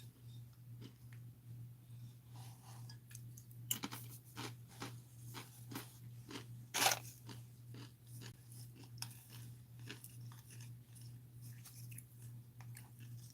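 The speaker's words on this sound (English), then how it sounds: "Don't mind me crunching." A person eats crunchy food close to the microphone during a live stream, making soft, irregular crunching and chewing bites over a constant low electrical hum, with no talk.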